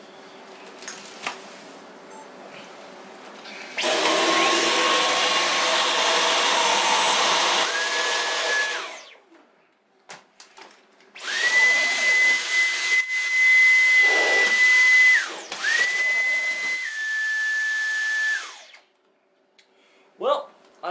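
A Dyson V11 Animal cordless vacuum cleaner whines loudly over carpet in two long runs, its motor pitch shifting as it works, with a pause between and a person speaking around it.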